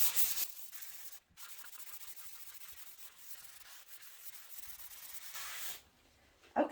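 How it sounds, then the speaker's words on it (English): Steady dry abrasive rubbing of sanding along the wood grain over clear wood grain filler, close and continuous with brief pauses, one short break early on and a louder scuff near the end. "sand along the grains of the wood"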